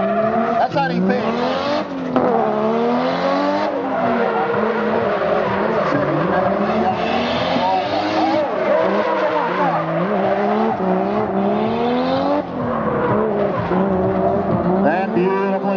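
Drift car skidding through a downhill left-hand hairpin during a solo pro competition run, tires squealing and engine wailing with rising and falling pitch, loud and continuous, with a commentator talking over it.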